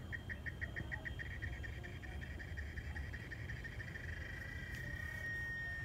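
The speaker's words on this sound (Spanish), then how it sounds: "a lo lejos se escuchan las chicharras" Cicadas in El Salvador buzz faintly in the distance in a pulsing rhythm that settles into a steady drone over low outdoor rumble, with no talking.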